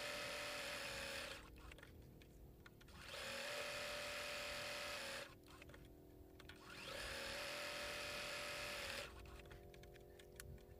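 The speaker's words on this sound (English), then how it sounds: "I'm just doing a straight stitch." Sewing machine running a straight stitch on a raw edge appliqué mug rug, a faint, close whirring hum in three sustained runs with short quiet pauses between.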